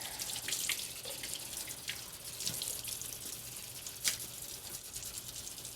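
A sink tap runs water while a child's paint-covered hands are rinsed, a quiet, steady hiss and trickle with a few soft drips and splashes, close by and without talk.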